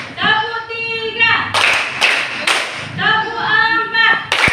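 Group of people clapping together in rhythmic bursts as a classroom ice breaker, several counted sets of sharp claps alternating with a child-like voice calling out between them.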